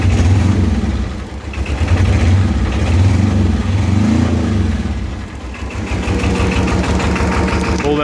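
A running Arctic Cat 700 diesel quad engine, a loud, close, steady clattering idle that swells and dips slightly, with a voice talking over it.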